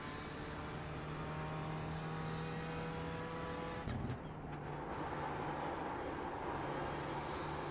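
A Ford GT2 race car in the iRacing sim drones with a steady high engine note, then dips sharply as the driver brakes for turn one, followed by a rising whine as the engine revs back up.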